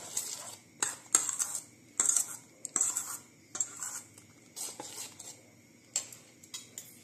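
A spoon stirring rava dosa batter in a bowl, with repeated light metallic clinks and scrapes against the bowl in an irregular rhythm, close and fairly soft, with no talking.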